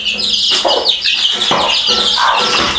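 A hen clucks alongside her ten chicks in a yard, the chicks peeping shrilly and constantly over a few low, close clucks.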